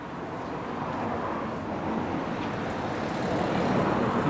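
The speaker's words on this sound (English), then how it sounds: "I'm on the main road, but might be a little bit of traffic noise." Steady traffic noise from a main road in Liverpool near Anfield, a continuous broadband rumble and hiss of passing vehicles that holds at an even level throughout, with no voices over it.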